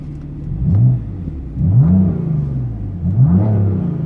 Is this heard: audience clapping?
no